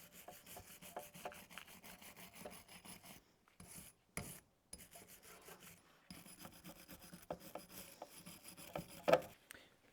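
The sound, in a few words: rubbing to clean a coilover tube on a Volvo 740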